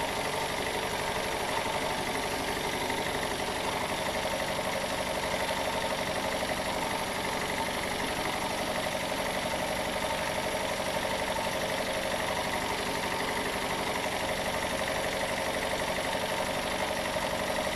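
An engine in a Jensen 50 runs steadily at about 8.2 amps at 1,000 watts, with a constant droning hum and hum-like whine, unchanging for the whole stretch, no voices.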